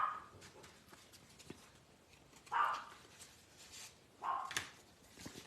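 A small dog yaps indoors, three short bursts spaced a couple of seconds apart over faint background tapping and room noise, moderately distant.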